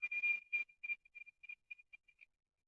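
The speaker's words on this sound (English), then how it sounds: "that noise is locust." Locusts make a fast series of short, bright buzzing chirps, dense at first and then thinning into scattered bursts that fade out.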